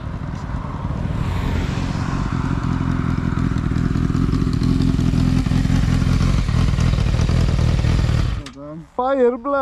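A silver Honda Fireblade sport motorcycle arrives, its loud, close engine roar and rumble holding steady for about eight seconds before cutting off abruptly, after which people begin talking.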